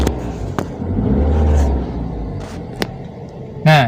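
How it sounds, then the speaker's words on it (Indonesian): An older car's engine gets a short blip of throttle as it is switched off: a low rumbling swell that fades out, with a few sharp clicks and knocks around it. "cara mematikan mesin dengan cara digas ya"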